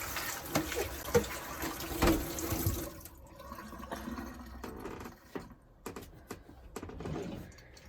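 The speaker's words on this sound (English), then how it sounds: "And Cody's apples are washed for him this week, so we're going to rinse those off too." Running tap water pours over apples to rinse off a waxy film, a close, fairly quiet rushing splash that lasts about three seconds and then stops, leaving faint kitchen handling sounds.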